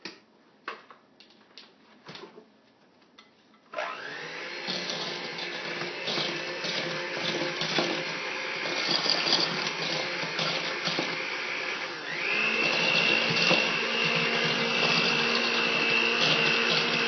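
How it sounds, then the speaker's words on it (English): An electric mixer beats a cake-style mixture, starting after a few quiet clicks and taps and then running as a steady loud whir with blades scraping and clattering against the bowl, its pitch stepping up partway through. "you're going to have to beat this really well, so I like to use a mixer"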